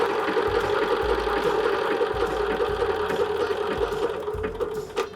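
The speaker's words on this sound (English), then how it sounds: "I am going to just do the blanket stitch" A sewing machine running steadily as it stitches a blanket-stitch edge around a holiday cushion cover, a continuous mechanical hum with faint rhythmic ticking, close and alone.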